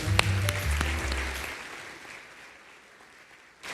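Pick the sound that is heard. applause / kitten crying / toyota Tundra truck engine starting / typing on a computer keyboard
applause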